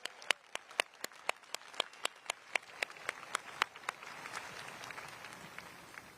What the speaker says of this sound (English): give them a round of applause for all of the hard work